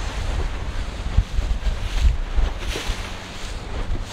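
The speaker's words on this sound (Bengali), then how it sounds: "আমরা এখন এই বোটে উঠবো। দেখতে পাচ্ছেন প্রচুর ঢেউ আছে" Wind buffets the microphone as a boat rides choppy sea waves off Raouche, Beirut, Lebanon, near Pigeon Rocks, with a steady broadband rush and occasional low thumps of hull against water, close and loud.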